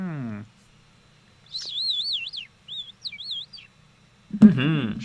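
A person imitates little bird whistles and chirps with the voice: short wavering warbled whistles in two bursts, close and clear, framed by brief spoken voice at the start and end.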